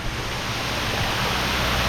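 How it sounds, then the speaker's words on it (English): A jungle waterfall in Thailand pours without pause, a dense, loud, even roar of rushing water that fills the whole short stretch with no voices. "what an absolutely amazing waterfall"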